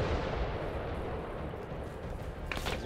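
A rocket explosion in the Arma 3 video game: dense, sustained blast rumble and crackling roar fills the whole stretch loudly, with a sharper burst near the end and no talking.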